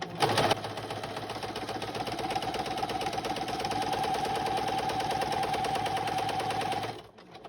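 A sewing machine stitches around a book-page tuck spot for a junk journal, a fast steady mechanical rattle running for about seven seconds close up, then stopping abruptly.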